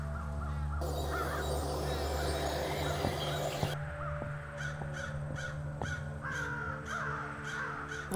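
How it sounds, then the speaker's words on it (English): A flock of crows caws repeatedly in the point-and-click adventure game The Night of the Rabbit, harsh calls overlapping and layered over a droning background score, fairly close and persistent. "Ganz viele Krähen."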